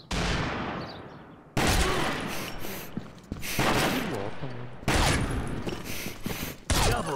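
Gunfire from the online shooter Combat Arms during a team match: repeated loud bursts of automatic fire in several separate volleys, close and dense, with game effects between them.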